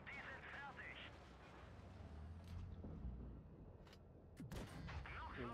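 Tank cannon shots ring out in a World of Tanks Blitz match, an E50M firing armor-piercing rounds into the back of an E100: several sharp, heavy reports over constant engine rumble and battle noise.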